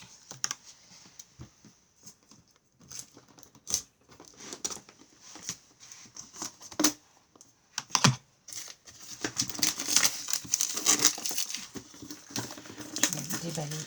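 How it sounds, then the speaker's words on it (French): Plastic-wrapped craft supply box being unwrapped and opened by hand, with scattered crinkling taps and rustles that grow denser and louder toward the end, mostly alone with little talk. "Je vais déballer une boîte pour vous montrer."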